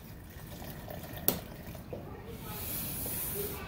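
Liquid trickles and pours into a cooking pot, a soft watery hiss with a sharp clink early on, quiet and close.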